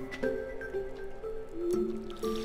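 A watering can sprinkles crops in the Stardew Valley video game, with soft watery squishes and drips plus melodic game tones under a steady quiet background.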